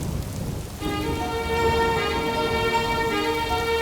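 Steady rain pouring down outdoors, a dense continuous hiss of drops on surfaces, loud and close, with a sustained tonal hum joining in after the first second.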